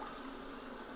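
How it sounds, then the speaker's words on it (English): Water being poured into a turmeric, ginger and honey drink, a steady, continuous broadband trickle close by, alone with no talking. "So I'm just going to add a little bit more water."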